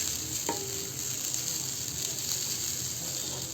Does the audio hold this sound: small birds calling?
no